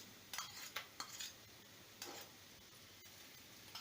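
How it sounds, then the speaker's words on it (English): Garlic paste and onion frying in a pan, a faint low sizzle punctuated by several soft scraping and stirring clicks of a utensil against the pan, quiet and close, with no talking. "and let it fry for a couple of minutes till the raw smell of the garlic goes away"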